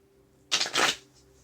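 A tarot card deck riffled and shuffled in one quick burst of about half a second, papery and close, set against a quiet room with no voices.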